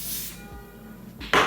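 Lace spray hisses onto a lace frontal wig in one short, close burst near the end, following a brief quieter hiss at the start.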